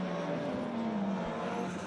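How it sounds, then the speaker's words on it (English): A Ford RS200 rallycross car climbing a hill at a retro rallycross championship round, its engine droning steadily and loudly throughout, a continuous close roar without any voices. "Liam Doran now being let off the leash, if you like, in the family RS200."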